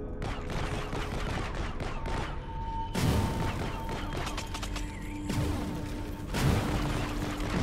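Bursts of rapid gunfire in the video game Project Tower crackle in dense volleys, fairly loud, with brief shifts between bursts and a steady electronic hum underneath.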